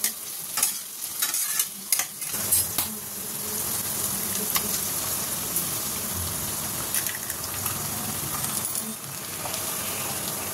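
Chowmein stir-fried in a pan gives a steady close sizzle with repeated scraping and tossing clatter over about ten seconds, with no talking.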